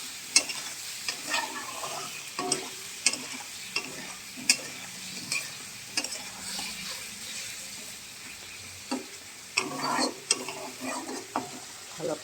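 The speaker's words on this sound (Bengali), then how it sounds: "এবারে মশলাটা ভালো করে কষাবো।" Masala paste of salt, turmeric and chilli powder with a little water being stir-fried for a fish curry with bitter gourd and potato, wet sizzling under repeated spatula scrapes and taps in an uneven rhythm, close and steady, no voices.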